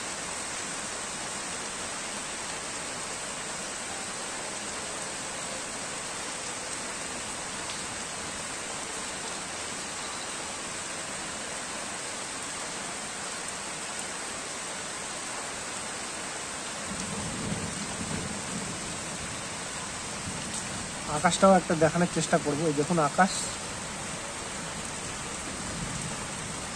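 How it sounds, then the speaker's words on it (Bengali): Moderate rain patters steadily on a tin roof, a soft, even hiss throughout, while a person talks quietly near the end. "বৃষ্টির দিনে টিনের চালের উপরে যে বৃষ্টির ফোঁটাটা পড়ে, আওয়াজটা হয় টিনের উপর"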